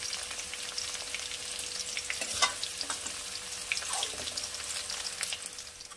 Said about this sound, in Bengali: ক্যাপসিকামটা বেশি ভাজব না, বেশি ভাজলে যে ক্রাঞ্চি ভাবটা সেটা নষ্ট হয়ে যাবে।